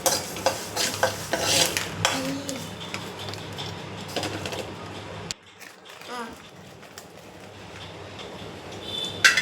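Dry fruits and peanuts are stirred and lightly fried in a pan, with scraping stirring strokes over a soft sizzle; a voice speaks in the background, and the sound pauses briefly midway before stirring resumes.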